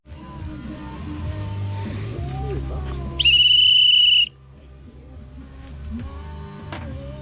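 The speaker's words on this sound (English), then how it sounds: "I'm gonna go blow the whistle" A single loud, sustained whistle blast lasting about a second, blown at a fishing resort with arapaima and alligators, cutting over steady outdoor rumble and distant background voices.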